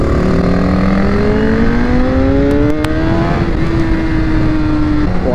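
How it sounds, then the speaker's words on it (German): A car cruising on the German Autobahn, its engine droning loud and close with rising harmonic tones as it accelerates through the gears, steady road and wind noise underneath. "jetzt fahre ich wieder Autobahn."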